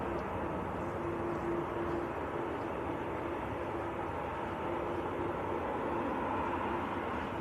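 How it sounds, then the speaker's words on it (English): An Airbus A330 engine whines steadily at Manchester Airport, a continuous droning roar with a faint tonal whine held across the whole stretch, heard from a distance. "You can hear that whining of the A330."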